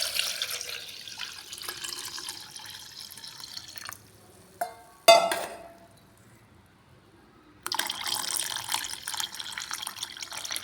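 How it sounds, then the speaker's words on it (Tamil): Water is poured into tamarind water for Tamil rasam, a close splashing pour that cuts off midway, followed by quiet and a few small knocks, then the pouring starts again. "தேவையான அளவு தண்ணி ஊற்றிக்கணும்."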